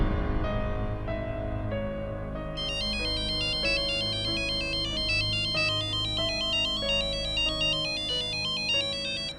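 A mobile phone ringtone plays on and on, a bright electronic melody of repeating high beeping notes over a sustained music bed, steady and fairly loud with no talking.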